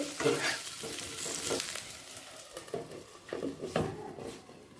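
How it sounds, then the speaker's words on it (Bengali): Potatoes fry in oil in a pan over a high gas flame while being stirred, a close, fairly soft sizzle broken by irregular scraping strokes and light clatter of the utensil. "এই সময় আমি গ্যাসের ফ্লেমটাকে হাইয়ে করে দিয়ে ভালো করে তেলের সাথে মিশিয়ে নিচ্ছি"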